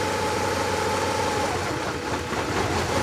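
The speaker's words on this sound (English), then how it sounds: "the vehicle does run rough again when I manually energize the solenoid" Honda Accord engine running rough at idle with its EGR solenoid energized, a close, continuous engine drone with uneven low pulsing and a slight dip in level partway through, with no voices.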